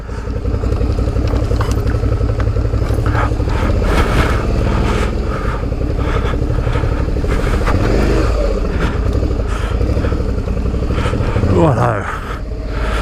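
A Suzuki V-Strom 650 motorcycle rides off-road over ruts and rocks, its engine droning loudly throughout with bumps, clatter and brief revs, while a rider talks over it.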